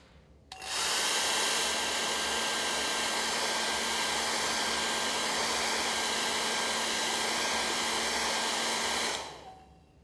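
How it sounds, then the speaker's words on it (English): A hairdryer switches on to dry chromatography paper in a school lab, giving a loud, steady whooshing roar with a faint motor whine that holds evenly for about eight seconds before cutting off. "The paper is dried with the hairdryer."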